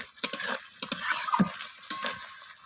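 Masala for rohu fish curry frying in a pan after salt goes in, a spoon scraping and stirring in quick irregular strokes over a soft steady sizzle, close up with no voices.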